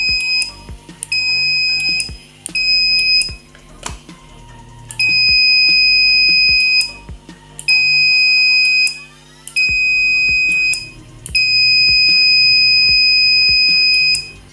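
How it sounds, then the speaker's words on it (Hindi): The buzzer of a train accident prevention science model sounds in loud, shrill beeping bursts, cutting on and off repeatedly in long and short stretches, close and harsh. "यहाँ पर ये बजर बजेगा"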